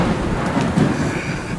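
Deep rolling thunder rumbles through a major storm, a low, sustained roar with rain and wind noise, loud and close, with no voices.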